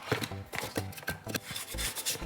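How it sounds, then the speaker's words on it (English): Close, steady scraping and rubbing as homemade powdered malt, sticky from its natural sugars, is scraped off the side of a bowl in quick repeated strokes, with no talking. "So scrape all that off."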